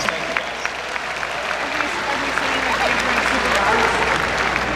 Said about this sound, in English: How about a round of applause for our wonderful Superdog puppies?